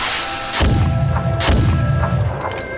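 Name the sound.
ceremonial firecracker cannon blasts in drama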